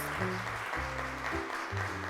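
Studio audience applause on a children's television show, a steady, fairly faint patter of clapping with musical tones playing over it.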